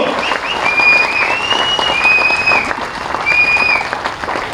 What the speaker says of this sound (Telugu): మీ అందరూ చప్పట్ల ద్వారా హర్షధ్వానాలు తెలియజేయాలని చెప్పి